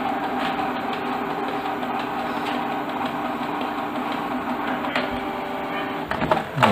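A Canon G2010 inkjet printer runs its deep cleaning cycle, a steady close mechanical whir and drone with a clattering shift near the end, no voices.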